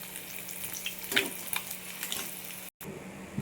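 Fried eggs crackle and hiss in hot oil in a pan, part of an egg curry with dried fish. A steady close sizzle runs with a few sharper pops and a brief dropout near the end.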